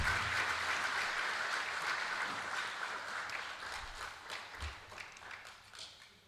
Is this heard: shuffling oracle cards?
no